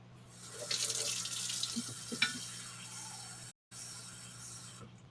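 Water runs from a kitchen tap into a measuring cup for pickle brine, a steady hiss and splash with brief drips, fairly quiet and close, cut by a short silent gap near the end.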